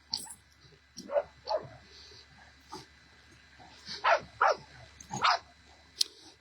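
Dogs in a yard bark in scattered short bursts, some sharp yips and higher whimpers among them, fairly close but moderate in level over a steady low background hum, with no talk.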